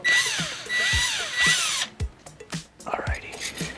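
A cordless power drill backs long screws out of a Watkins hot tub pump, whining up in several short bursts close to the mic, followed by clicks and handling noises.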